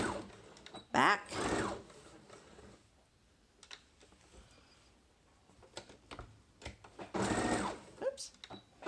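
A sewing machine backstitches a fabric face mask from a kit in two short bursts of whirring stitching, back and forth, with a quiet pause between them and a person talking over the gaps.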